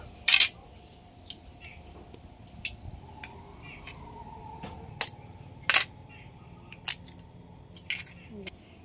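Eggs are cracked into a bowl for a new egg and soybean recipe: a handful of sharp, close taps and cracks spread unevenly over a quiet background.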